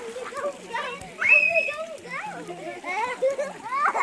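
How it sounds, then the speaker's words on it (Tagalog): Water flowing at a farm and campsite in Wawa, Montalban, Rizal, a steady wash partly buried under lively children's and adults' voices chattering nearby. "Running water po yan mga kamidik. Ito po yung tubig, umaagos po yan."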